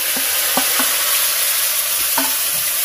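Cumin and ginger spice paste hits hot white oil with fried dried chillies for a village-style paneer dish, a loud, close, hissing sizzle with a few light stirring knocks.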